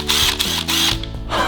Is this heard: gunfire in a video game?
no